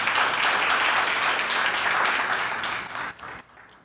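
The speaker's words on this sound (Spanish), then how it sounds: "Háganle un aplauso al Señor." A church congregation applauding together in a steady, dense wash of clapping that stays loud for about three seconds, then thins and trails off into near silence.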